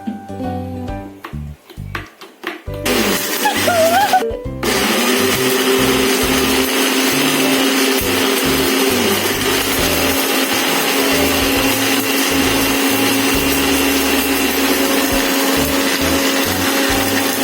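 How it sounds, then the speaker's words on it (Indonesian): An electric blender grinds dried guava leaves into a powdered simplisia: a few seconds of clattering leaves give way to a loud, steady, continuous whir that runs close and alone to the end, with no talking. "masukkan ke dalam blender, terus di blender untuk menghasilkan simplisia"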